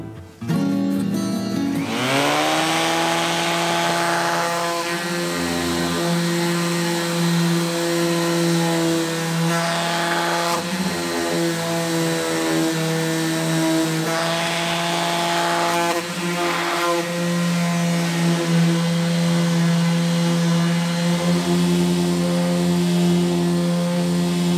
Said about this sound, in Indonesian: Proses pengamplasan ini harus benar-benar rapi dan juga benar-benar halus.